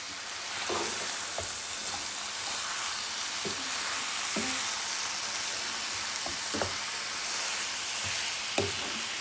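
Ground beef and onions sizzle in a pan for Hyderabadi kheema fry, a steady close frying hiss throughout with scattered light scrapes and taps of stirring.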